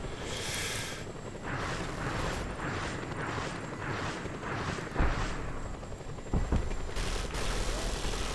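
Gunfire from the open-world video game Just Cause 2 near an oil rig, a steady stream of rapid automatic shots with several louder bursts and blasts toward the end, dense and continuous with no talking.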